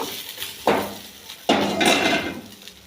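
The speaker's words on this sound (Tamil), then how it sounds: "காணத்தை அந்த காணத்தை கொட்டி அதை வறுக்கிறோம்" Dry horse gram lentils poured into a hot pan for roasting, two sharp bursts of rattling grain hitting metal followed by a sustained clattering scatter, close and fairly loud.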